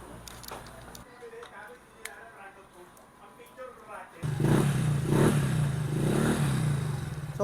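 A Yamaha Fazzio scooter with a remapped ECU runs on a dyno, starting with light ticking and clatter before the engine rises into a loud, sustained rev. Voices can be heard talking over the early part.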